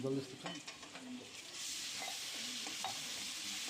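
A prepared spice paste for Bengali chilli chicken is stirred and fried in a pan, sizzling steadily beneath a few clinks of a spoon scraping the pan, heard up close.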